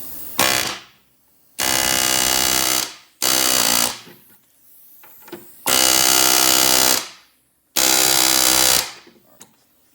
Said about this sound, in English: Now we're going to use the driving pin of your air chisel to drive them out.